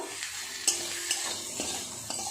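Spice masala being stirred into fried eggplant and potato in a pan for a hilsa fish curry, with a steady low sizzle and a few distinct scraping stir strokes, close and alone.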